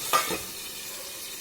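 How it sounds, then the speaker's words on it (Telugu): Tomato frying in a covered pan for a baby potato curry, with a short stir near the start and then a steady soft sizzle that continues on its own. "వేసి బాగా కలిపి కొంచెం మూత పెట్టి ఫ్రై అవ్వనివ్వాలి."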